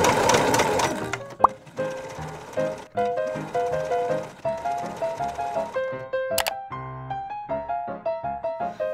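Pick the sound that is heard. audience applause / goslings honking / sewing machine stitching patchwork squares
sewing machine stitching patchwork squares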